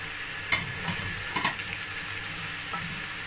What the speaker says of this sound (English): Going to mix all that together.